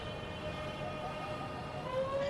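A London Overground electric train pulls away from a station in the Train Sim World 2 game, its motors whining in a steady rising tone over a continuous low rumble that builds slightly toward the end.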